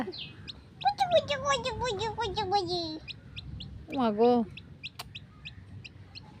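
High, rapid peeping calls from chicks repeat throughout, with a couple of louder clucking calls from a grown hen and a short spoken word mixed in.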